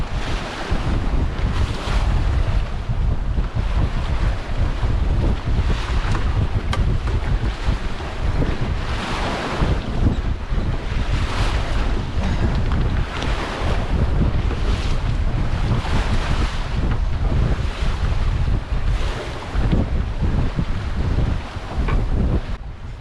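A small 20-foot sailboat plows through choppy waves in 20-knot winds, with loud, constant wind buffeting the microphone and surging water washing and slapping against the hull throughout, and no voices.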